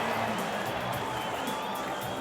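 A packed stadium crowd at a Cowboys v Broncos rugby league semi-final roars in a continuous dense wash of cheering and shouting, steady and loud throughout, with a commentator talking over it.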